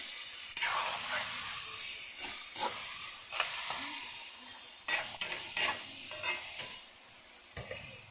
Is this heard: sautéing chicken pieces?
yes